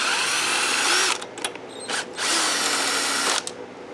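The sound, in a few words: power tool removing carburetor bolts on Troy Bilt mower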